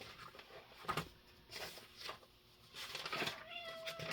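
A cat meows in a room during a math class, a few short calls standing out over background noise, with the last one drawn out and tonal.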